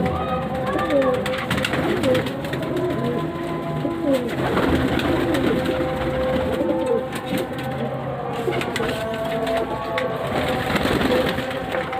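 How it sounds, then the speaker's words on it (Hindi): Pigeons in a loft crèche coo repeatedly and close by, soft throaty calls overlapping through the whole stretch, with a voice talking over them. "ये देखें वही कबूतर है"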